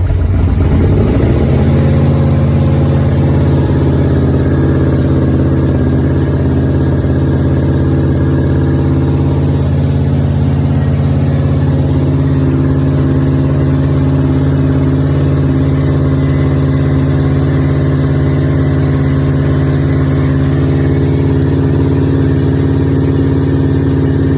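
Motorcycle engine started with the carb choke pulled and left idling in neutral, loud and close, a steady low droning idle after a brief start-up at the beginning.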